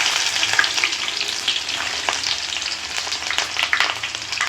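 Chopped onion frying in hot oil in a pot, a close, bright, crackling sizzle with spattering pops and stirring scrapes, steady and fairly loud throughout without speech.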